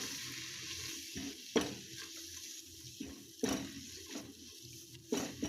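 Flour stirring and toasting in oil in a frying pan, a soft continuous sizzle under the gentle scrape of a spoon, with a few louder stirring knocks at intervals, close and alone.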